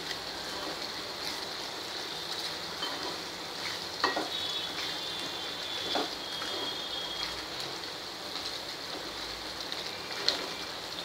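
Milk reducing to khoa in a pan, stirred continuously, giving a soft steady sizzle and scraping with a few sharper clinks of the spoon, close and alone.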